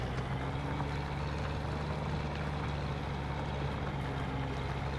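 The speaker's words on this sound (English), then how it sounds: "Oh man, this tractor's struggling a little bit." A tractor engine labours under load in the Farming Simulator video game, a constant low droning rumble with steady mechanical hum that stays loud and unbroken throughout, no talking heard.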